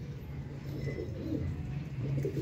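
Sialkoti pigeons cooing on a rooftop, a steady close murmur of low throaty coos running throughout, with no talk over them.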